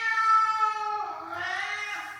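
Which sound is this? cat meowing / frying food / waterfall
cat meowing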